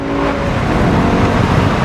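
A 16-year-old BMW E60 M5 with its V10 engine roars loudly under hard acceleration, a continuous dense engine note heard from inside the car without talk.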